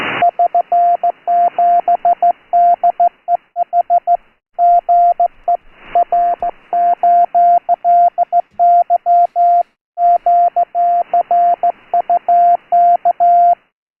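CW Morse code over amateur radio on the 3729 kHz band, a single clear steady tone keyed in rapid dots and dashes with short pauses between groups, loud and alone.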